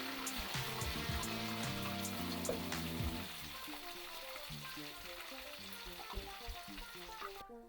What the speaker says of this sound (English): Keep stirring so it cooks evenly.